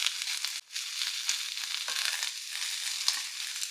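Mushrooms spread out in a hot oiled pan, sautéing with a steady, dense sizzle and occasional pops and crackles, fairly close and without any talking.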